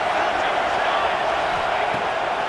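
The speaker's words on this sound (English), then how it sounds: "this crowd is at fever pitch" A college football video game stadium crowd roars in a steady, dense wall of cheering noise during a tense third-down play, while a commentator talks over it.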